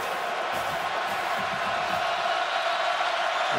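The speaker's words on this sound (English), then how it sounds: "And here comes the war chant." Florida State fans chanting the war chant in a packed college football stadium during a game against the Florida Gators, heard as a steady, dense crowd roar that holds evenly throughout.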